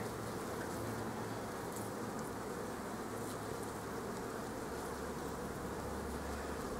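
Dense, continuous buzzing of many honeybees swarming around a hive frame, a steady close hum with no speech.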